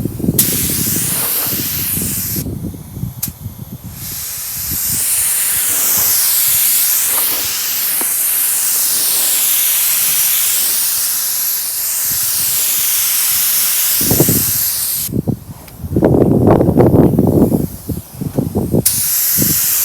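A spray gun applies epoxy primer to a 1974 Ford F250 truck cab outdoors, a loud continuous hissing spray broken by short pauses, with a wind-blown rumble and brief bursts in between.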